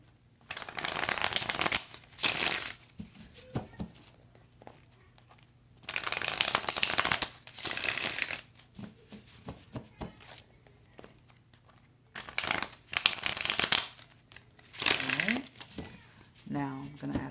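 Tarot cards are shuffled in several loud bursts of rapid riffling and flapping, separated by quieter pauses with light handling and a voice speaking.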